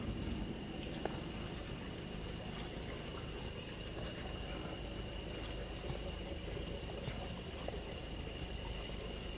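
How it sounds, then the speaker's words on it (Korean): Flowing water heard during a relaxed night walk in Gwangmyeong, a constant, steady rushing wash that stays even and moderately close throughout, with no voices over it. "이게 무슨 물소리지?"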